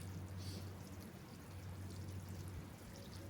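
Water poured into a greenhouse in a home garden, a steady continuous splash and trickle lasting throughout, close and fairly even with a low hum underneath.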